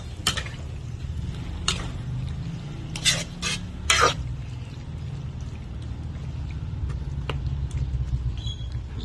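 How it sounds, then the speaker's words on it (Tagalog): Pork menudo stew in a pot: a low, steady bubbling simmer underneath, with a few scattered clinks and scrapes from kitchen utensils, fairly quiet and close. "Ayan, kumukulo."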